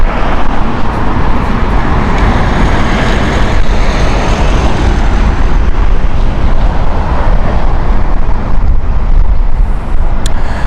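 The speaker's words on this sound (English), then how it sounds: "This is a Airbus A321 from British Airways, Speedbird flight 531" A British Airways Airbus A321 at Heathrow roars with loud, broadband jet engine rumble that stays steady and close throughout, with no talking.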